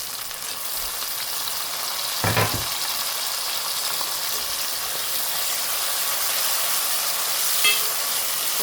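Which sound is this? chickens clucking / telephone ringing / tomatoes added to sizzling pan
tomatoes added to sizzling pan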